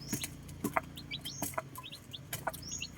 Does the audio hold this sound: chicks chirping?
yes